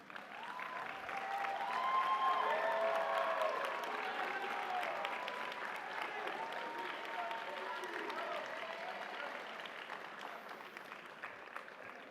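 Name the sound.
graduation audience applause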